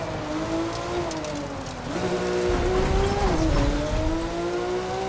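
An off-road car in a racing video game drives with a steady engine drone whose pitch rises and drops as it shifts, with rough gritty noise under it and no talking.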